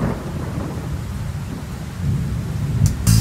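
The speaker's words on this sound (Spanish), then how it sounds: "Si hago silencio puedo contemplar la lluvia que cae sin parar." Rain and thunder as a sound effect in a children's song: a steady loud wash of rainfall with rolling thunder rumbling underneath, and no voices.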